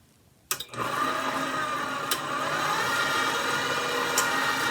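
A KitchenAid stand mixer switches on with a clunk and settles into a steady, even whirring hum, fairly quiet and close, mixing choux pastry for chocolate eclairs.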